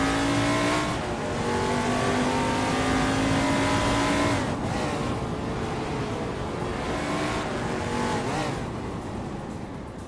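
A 1971 Chevrolet Monte Carlo racing in a video game, its engine droning loudly and steadily with pitch climbing through gears, dropping at shifts and rising again.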